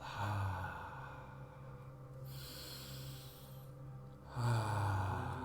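Slow conscious breathing during a breathwork session, inhaling through the nose and exhaling through the mouth, with long airy breaths close to the microphone and quieter pauses between them over a low steady hum.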